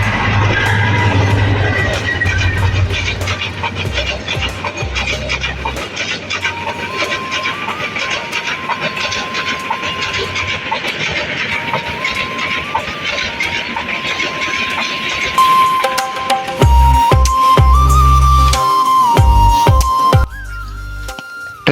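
An intercity train bound for Dhaka from Chittagong speeds through rural Barotakia railway station on a rainy day: a loud, sustained rumble and rail clatter with whistle-like tones, ending in heavy rhythmic wheel thumps as the cars pass close by.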